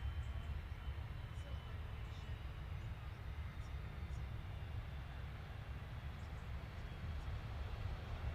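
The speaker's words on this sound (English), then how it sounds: "KLM touching down on 23 right" A KLM airliner arriving from Amsterdam touches down on runway 23 right, a faint, distant, steady roar of jet engines washing across the airfield.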